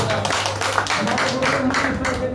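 An audience claps loudly for the founder of the system, a dense run of hand claps with some individual sharp claps, and a voice speaks over it.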